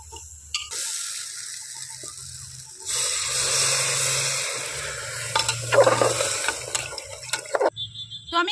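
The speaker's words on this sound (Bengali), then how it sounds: "এখন আমি এর মধ্যে জল দিয়ে দেব।" Water is poured into a hot pressure cooker holding khesari dal. Faint clinks and light mechanical clicks give way to a rising, hissing sizzle with bubbling and rattling, close up and without speech.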